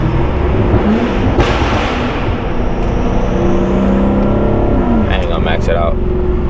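A BMW F90 M5 Competition LCI drives through a tunnel in heavy weekday traffic, its engine note loud and reverberant and shifting in pitch as the car accelerates, while someone talks over it.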